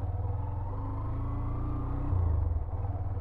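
A motorcycle near Wellington Bike Market in Kolkata pulls away in first gear, its engine giving a steady close rumble that swells as it picks up revs, with no talk.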